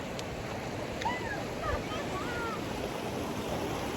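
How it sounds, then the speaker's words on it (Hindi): River water in Kumrat Valley rushes beneath a wooden bridge as a steady, close, broadband roar, with faint voices in the background. "बिल्कुल ये पानी है"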